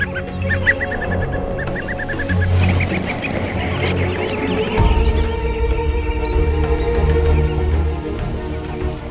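Grouse flocking and calling, with repeated clucking and honking notes in short rapid series over a busy background of overlapping bird calls, fairly loud and close throughout.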